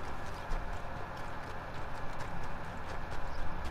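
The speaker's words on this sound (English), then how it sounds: "Come on, horse!" Horse hooves clip-clop at a steady trotting rhythm in Red Dead Redemption 2, a continuous close, moderately loud run of hoofbeats over a dense background of game ambience.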